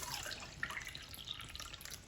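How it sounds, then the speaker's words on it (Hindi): Water poured into a pan for semolina (suji) halwa, a steady close splashing trickle running for a couple of seconds with no talk over it. "अब यहाँ पे पानी ऐड करेंगे।"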